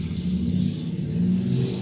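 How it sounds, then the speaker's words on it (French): A large motorcycle passes nearby, its engine giving a steady, loud mid-pitched rumble and rev that stays fairly even across the brief moment, with no voices. "Vas-y la moto, dépêche-toi de passer, là"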